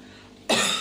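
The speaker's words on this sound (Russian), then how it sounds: "Да, кашель меня еще не кидает." A single sharp cough bursts out close to the mic after a moment of quiet room tone, with a second small burst at the very end.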